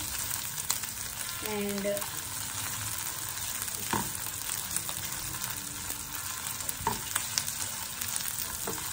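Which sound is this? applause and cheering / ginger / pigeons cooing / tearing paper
ginger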